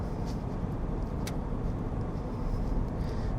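A car with an automatic gearbox accelerates along a road during driving practice, a steady engine and road rumble holding at an even level throughout, close and continuous with no talk.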